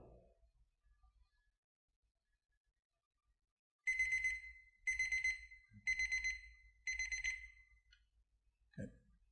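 A lab timer alarm sounding during an AASHTO T 209 rice test on RAP, four loud shrill beeping bursts in an even rhythm, close by, followed by a quick clunk.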